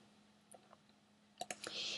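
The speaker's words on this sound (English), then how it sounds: "Click on login." Mouse clicks on a login button during a WordPress setup on a computer, a few faint sharp clicks in quick succession near the end, quiet and close.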